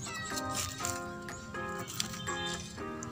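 Cats meow repeatedly while eating, several drawn-out, fairly close mews following one another at a steady pace over faint background noise.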